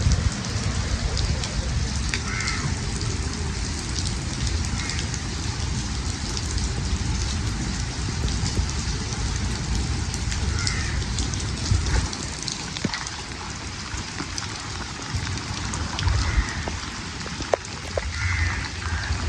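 Steady, heavy rainfall during flooding near a bus stand in Jaffna hisses continuously throughout, a dense wash of drops on surfaces with no pauses, fairly loud and close.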